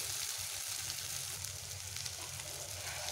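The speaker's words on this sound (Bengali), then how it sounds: "আমি একটু জল দিয়ে দিচ্ছি।" Ridge gourd masala sizzles in a pan after water is added, a soft, steady hiss and crackle that stays even and fairly quiet, with no voices.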